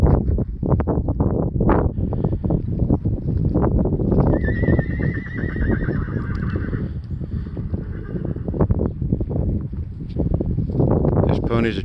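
A pony on a farm whinnies in a long, clear neigh midway through, with steady hoof clip-clops throughout, close and loud over wind noise and people talking.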